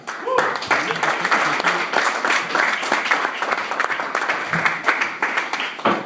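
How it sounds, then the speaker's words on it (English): Audience applause greeting comedian Matt Wohlfarth at a stand-up show, a dense, steady wash of clapping that runs loud and continuous throughout with a few sharper individual claps standing out. "Please put your hands together for Mr. Matt Wohlfarth"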